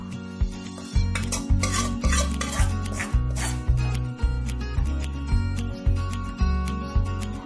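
Sautéed tomatoes scraped out of a pan onto a plate, making close metallic scraping taps in a steady rhythm about twice a second, with a faint sizzle underneath.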